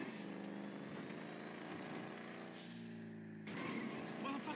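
Motorcycle engine of a big 140-cubic-inch bike in GTA 5, a steady droning hum that dips briefly before swelling again, with no talking.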